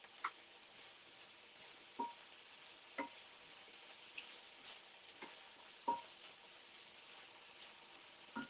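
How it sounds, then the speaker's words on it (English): Food is stirred in a frying pan after bacon has been cooked, giving a steady soft sizzle with a few separate scraping knocks at irregular intervals, moderately close and with no one talking. "Let's give this a stir."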